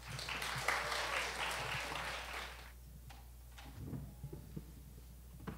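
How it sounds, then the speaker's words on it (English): Middle school choir audience claps in a dense burst at an end-of-year school concert, the applause fading after a few seconds into quieter room noise and scattered knocks. "Please have a big round of applause for MS Choir."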